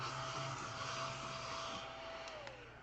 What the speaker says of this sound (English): This is a desktop vacuum cleaner.